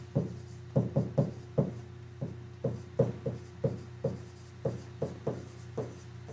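Marker or chalk taps and scratches out chemistry formula steps on a board in short irregular strokes and clicks, close and fairly quiet over a steady low electrical hum, with no talking.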